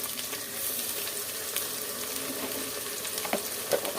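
Chopped ginger frying in a pan, giving a steady soft sizzle with a few small pops and stirring scrapes, heard close and alone.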